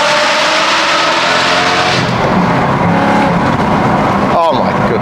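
A modified BMW car engine revs hard inside a tunnel, loud and close with a booming echo, the pitch rising and falling through several throttle blips over a steady roar.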